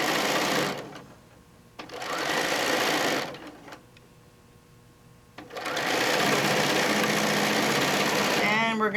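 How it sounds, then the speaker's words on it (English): A domestic sewing machine runs a quilt block seam in bursts of fast, rhythmic stitching, with two short runs and then a longer sustained one. Pauses between them are quiet, and a voice talks briefly in the background. "we're going to sew all the way down, and then the block is done"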